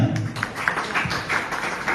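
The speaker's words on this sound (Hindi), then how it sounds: "तालियां।" Applause from an audience at a Hindi poetry and shayari recitation, a dense, steady patter of many hands clapping at moderate volume that continues through the full two seconds.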